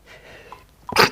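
One sharp sneeze erupts after a moment of faint background sound, brief and fairly close.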